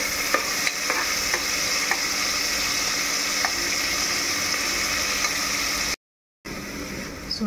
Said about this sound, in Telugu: ఆనియన్ బ్రౌన్ అయిపోతుంది, లైట్ బ్రౌన్